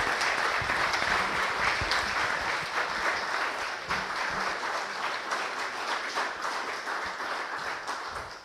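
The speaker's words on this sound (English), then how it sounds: "You don't have to applaud me." An audience applauds at the close of a public astronomy talk: dense, sustained clapping from a full room, loud and even throughout before tapering slightly at the end.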